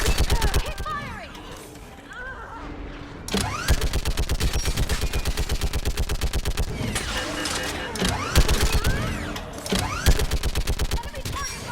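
Sustained automatic gunfire from Mass Effect 3 combat, rapid evenly spaced shots rattling in long bursts with brief pauses and louder impacts, all dense and close.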